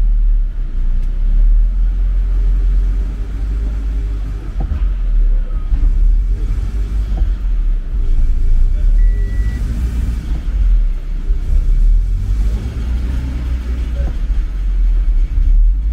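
A 2013 Subaru BRZ being driven through its gears, a low steady engine and road rumble that runs continuously and fairly loud, with the pitch shifting slightly as it moves.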